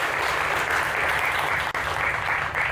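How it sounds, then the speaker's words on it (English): Sustained crowd clapping at a talk about a community-built nomad village in India, applauding the team; a thick, even wash of hands that holds steady throughout with only a brief dip near the end. "give a round of applause to Johannes, Dory, Eva, David, the entire team for building in public so well"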